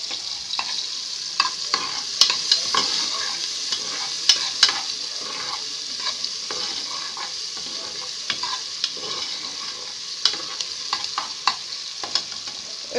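Onions sizzling in melted ghee in a pot with a pinch of salt, a continuous bright crackle broken by frequent spoon scrapes and stirring clicks, close and clear with no talking.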